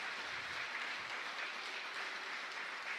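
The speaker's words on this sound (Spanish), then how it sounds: "un aplauso hasta el cielo a estos abuelitos por los que hoy estamos aquí" Steady, dense clapping from a congregation at a Catholic Mass in the chapel of Santa Ana y San Joaquín, filling the room evenly for a few seconds with no voices on top.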